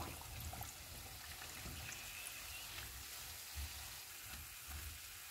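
Samosa pinwheels frying in hot oil, a steady crackling sizzle with soft bubbling and occasional low pops, close and fairly quiet, with no talking.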